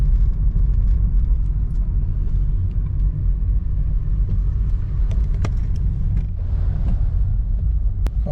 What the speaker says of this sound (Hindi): तो चलिए हम गाड़ी चलाते हैं